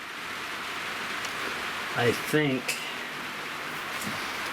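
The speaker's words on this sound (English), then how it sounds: "So now that the rain's starting to really piss" Heavy rain falls outdoors around an off-grid tiny house in a steady, hissing wash, with someone briefly speaking close by over the downpour.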